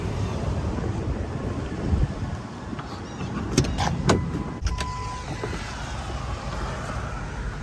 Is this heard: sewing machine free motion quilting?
no